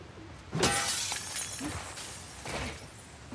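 Glass shatters repeatedly in the video game The Last of Us Part 2, with three separate crashing bursts spaced about a second apart over steady background ambience, loud and close, with no talking.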